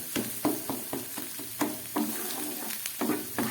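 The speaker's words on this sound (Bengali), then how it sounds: "আদা রসুন দিয়ে আমার মশলাটা পুরো ভাজা হয়ে গেছে এখনও আরও কিছুটা ভাজা হবে" Masala of ginger paste and garlic paste frying in a pan for egg korma, a steady low sizzle with soft stirring scrapes and a few sharper clinks, close and alone with no voices.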